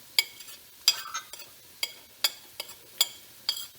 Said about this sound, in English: and ginger and just keep stirring